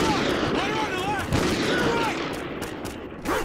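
Sharp shots ring out in Call of Duty Ghosts as a remote sniper rifle fires amid a busy battle, several cracking reports spaced across the moment over rumbling combat noise and faint chirping tones.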